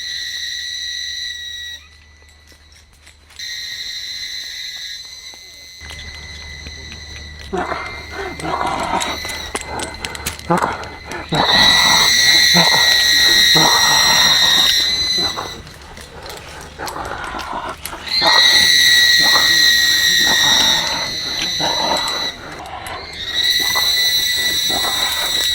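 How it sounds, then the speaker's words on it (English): Cicadas in Papua New Guinea erupt into loud, piercing high-pitched droning that swells in long sustained bursts, dropping briefly between waves, with rustling and a dog bark mixed in nearby. "all of a sudden, the cicadas started going crazy"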